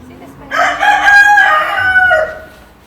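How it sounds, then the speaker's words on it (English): A cockerel at a family farm and adventure park crows loudly and close by, one full cock-a-doodle-doo lasting about two seconds. "He's a noisy cockerel."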